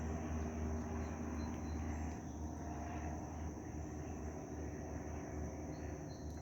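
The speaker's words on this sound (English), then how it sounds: "There's a fighter jet or something flying over." A fighter jet passing overhead outdoors, heard as a constant, broad roar that holds steady and then slowly eases, with no voices.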